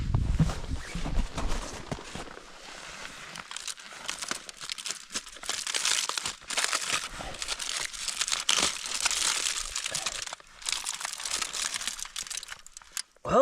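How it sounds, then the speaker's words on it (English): Tin foil crinkles and rustles steadily as it is peeled back from a brownie tin cooking over a campfire in deep winter snow, loud and close with a few sharper crunches. "I'm gonna lift the tin foil and have a peek."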